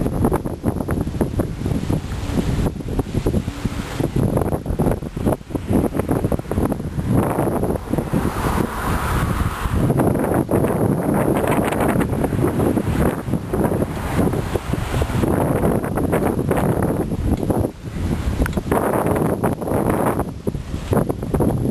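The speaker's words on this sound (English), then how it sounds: "Sorry for the wind. It's a little windy." Heavy wind at the beach buffets the microphone in a constant rumbling roar, gusting and easing slightly but never letting up, loud and close.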